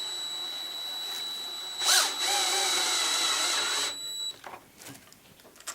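A power drill drives a screw to temporarily fasten a part of a wooden mantel clock in one brief whirring burst, close by, then stops, leaving light handling noises.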